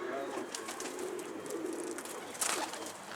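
A pigeon coos softly outdoors over a steady hiss of background noise, its low murmuring call faint and fairly distant.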